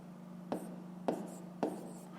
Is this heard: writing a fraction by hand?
yes